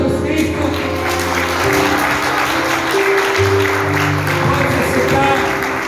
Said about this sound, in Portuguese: A igreja aplauda Jesus Cristo.